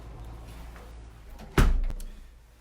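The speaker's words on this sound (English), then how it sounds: "close the door here" A door swings shut in a studio in Tokyo with a single loud, close thump that fades over about half a second, after a low steady room hum.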